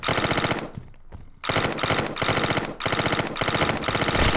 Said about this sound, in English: Let me switch to a sub. Definitely P90, man.